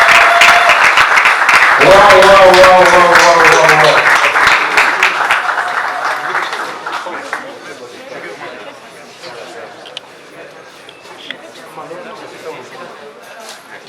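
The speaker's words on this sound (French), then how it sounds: "On applaudit très fort, s'il vous plaît." Loud audience applause at a formal ceremony attended by government members, dense clapping and chatter that swells early then gradually thins and fades, with a brief voiced exclamation over it.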